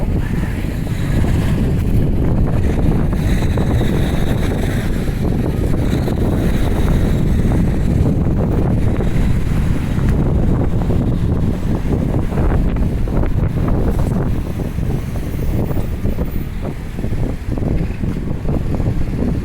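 Steady wind buffets the microphone while walking along a city street from Spring Garden Road toward Young and Robie, a loud continuous low roar filling the whole stretch with no voices.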